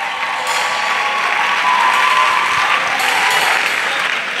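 A church congregation applauds in praise during an altar call, a dense, steady wash of many hands clapping at close range, holding loud and even throughout without a break.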